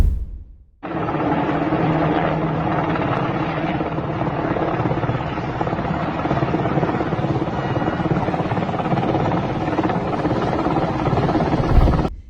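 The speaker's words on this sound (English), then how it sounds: "This is a U.S. Blackhawk helicopter flown by the Taliban." A U.S. Black Hawk helicopter flown by the Taliban, its rotor chopping steadily in a loud, continuous drone that starts abruptly and holds for about eleven seconds with no voices over it.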